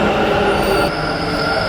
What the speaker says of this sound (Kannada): ಇವಾಗ ಮೆಟ್ರೋ ಬಂತ್ರಿ ಗೈಸ್